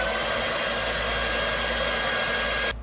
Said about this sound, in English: I'm going to blow dry it because it's pretty wet right now